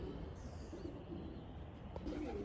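Racing pigeons coo softly and steadily in a loft, low murmuring calls overlapping close by with faint chirps and a light rustle, no talking.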